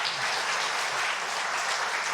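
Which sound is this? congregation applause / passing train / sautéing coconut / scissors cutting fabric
congregation applause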